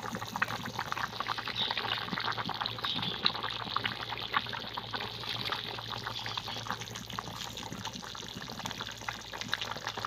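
Fried pabda fish goes into a simmering curry with elephant foot yam, and the liquid bubbles and gurgles steadily and closely throughout, with no distinct splash standing out and no talking.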